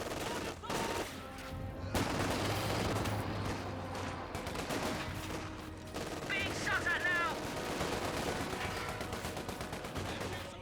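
Machine gun fire in a Company of Heroes 2 battle, with sustained rattling bursts and scattered shots over a busy wartime din, fairly loud throughout.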